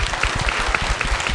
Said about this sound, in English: Round of applause for Jim Leonard.